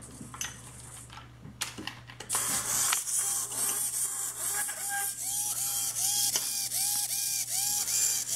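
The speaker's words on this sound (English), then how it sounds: "let's make it a bit more aggressive. Let's rotate the servo a bit faster." A small servo motor driven by a Raspberry Pi 3 whirs in quick, repeated back-and-forth sweeps, a steady stream of short buzzing strokes that begins after a few seconds of quiet clicks and continues close up.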